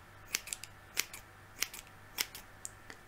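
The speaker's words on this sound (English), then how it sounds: "Some people, whilst having their hair cut," Scissors snip through hair during a close, quiet haircut, sharp crisp cuts coming in small rhythmic clusters about every half second, near and alone.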